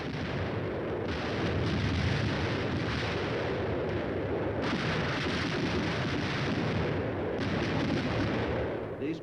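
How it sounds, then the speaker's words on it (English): Air bursts fired by a battalion of 105mm howitzers: a continuous, loud roar of overlapping booming blasts and rumbling detonations that swells and dips in waves across the whole stretch, with no talk. "The air bursts fired by a battalion of 105mm howitzers present a lively show."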